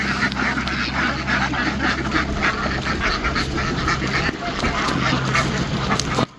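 A flock of ducks quacks at a barn, a dense, continuous chorus of overlapping calls close by and loud throughout, with a low background rumble underneath.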